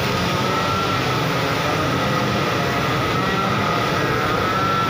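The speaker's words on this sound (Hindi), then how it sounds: "ये है कंप्रेसर।" A compressor on a cello tape coating machine drones in a steady, loud, unbroken mechanical hum with a broad rushing noise, constant from start to finish and close by.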